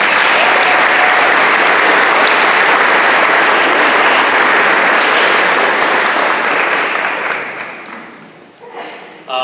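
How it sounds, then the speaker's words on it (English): Loud, dense audience applause fills a hall at a school awards and scholarship night, sustained for several seconds before thinning out near the end. "Let's give them a round of applause."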